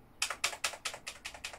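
Keys struck on an ASUS rubber-membrane gaming keyboard with a built-in wrist rest, seven fairly soft, evenly paced clacks in quick succession, close and alone.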